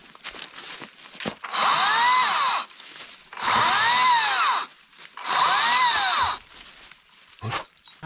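An electric chainsaw revs and cuts through wood in three loud bursts of about two seconds each, with short quiet gaps between.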